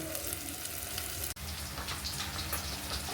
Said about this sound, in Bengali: দেখুন মশলাটা কষে তেল ছেড়ে দিচ্ছে